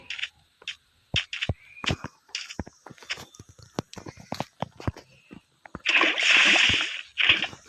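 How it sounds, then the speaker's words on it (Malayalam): Water is poured from a bucket in the Minecraft video game, a short burst of splashing and sloshing that comes near the end after a series of quick clicks and steps. "ഇവിടെ വെള്ളം ഒഴിക്കാം."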